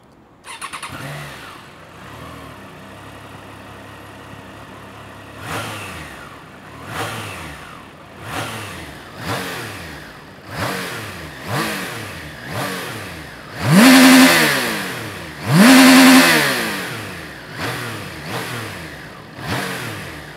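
A Triumph Trident 660 inline three-cylinder motorcycle engine idles, then revs repeatedly in rising-and-falling bursts, with two louder, higher revs near the middle, close and loud with no talking.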